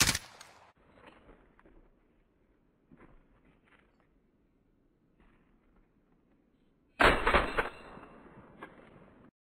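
MP5 submachine gun fire in the video game Call of Duty Warzone, a short loud burst of shots near the end, with a few fainter pops earlier in a mostly quiet stretch.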